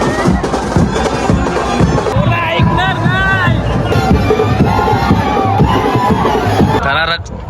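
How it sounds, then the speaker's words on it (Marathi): A dense crowd cheers and shouts at a palanquin procession festival, with loud overlapping voices, whistles and chanting throughout, close and energetic. "असा काय ना जल्लोष चालू आहे"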